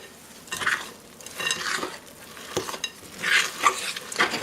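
Thick fruitcake batter with nuts, raisins and candied dates is stirred in a bowl, making wet, sticky squelches and scrapes in uneven bursts, close and moderately loud, with no talking.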